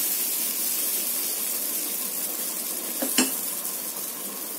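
A hot griddle gives a steady, even sizzle under an onion pesarattu being made, with one brief sharper spatter partway through and no speech.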